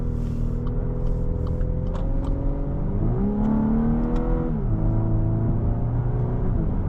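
A 2024 Volkswagen Atlas turbo four-cylinder engine revs and climbs in pitch while accelerating on the road, heard from inside the cabin as a steady hum rising, dipping at a shift, then settling, with no talking.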